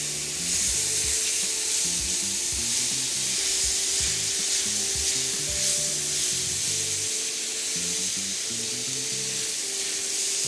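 Vegetables for a vegetarian gumbo sautéing in a pan, a steady loud sizzle with crackling, while a drum-and-bass rhythm plays underneath.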